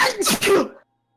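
A single sharp sneeze up close, a quick burst that cuts off into silence.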